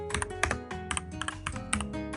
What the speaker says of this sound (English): I can see you typing C team